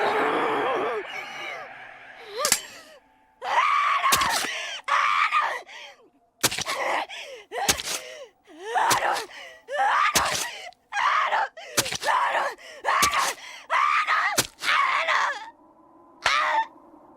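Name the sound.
anime pirate character screaming while stabbing her arm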